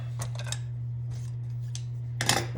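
Scissors handled while making a Christmas wreath with glitter gold ribbon: a few sharp clicks and snips separated by quiet pauses, close and faint.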